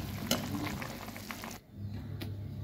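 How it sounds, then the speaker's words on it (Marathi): Roasted masala fried in oil dropped into boiling gravy in a pressure cooker, giving a steady close sizzle and bubbling hiss that briefly dips, then resumes with a faint clink, no talk. "तो कुकर तसाच गॅसवर चढवायचा, उकळून घ्यायचं आणि त्यामध्ये हा मसाला आपण जे भाजून घेतला मसाला परतून तेलावर तो यामध्ये"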